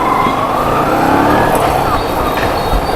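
Busy street traffic in India, with a steady wash of vehicle engines and road noise close by, continuous and fairly loud throughout.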